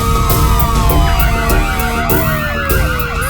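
An emergency siren in a Kannada film scene: loud wailing and yelping tones that rise and fall and overlap one another continuously throughout, with no speech.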